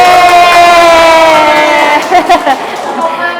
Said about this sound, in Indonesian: Tepuk tangan dong buat Miss Oli.